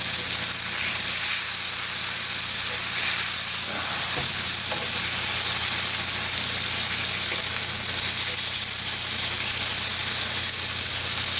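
A ribeye steak sizzles loudly on a griddle, a dense, constant hissing spatter close up with faint pops and no pauses, no speech over it.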